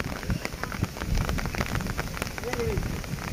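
Steady rain falls beside a river near a roadside tea stall, a continuous soft patter with scattered drops, fairly close, no talk.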